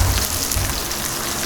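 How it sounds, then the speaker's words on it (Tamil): Steady rain patters outdoors with a dense, even hiss and low rumble, continuous and fairly loud, while fish fries nearby; no voices are heard. "வெளியே மழை சவுண்டு, இங்கே பார்த்தீங்கன்னா மீன் வறுக்கிற சவுண்டு எல்லாம் கேட்குது."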